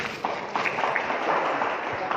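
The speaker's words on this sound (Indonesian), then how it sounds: "Tepuk tangan dulu buat anak muda ini." Church congregation clapping for a young man during a sermon, a dense steady wash of applause that holds at an even level throughout, with no clear gaps.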